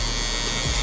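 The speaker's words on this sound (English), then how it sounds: "Single foil shaver by Gamma." A Gamma single foil electric shaver running at a barber's station during a taper fade haircut, giving a steady close buzzing hum that holds evenly through the short clip with no talk.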